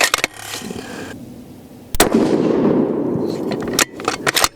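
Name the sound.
7mm PRC rifle gunshots firing handloads at target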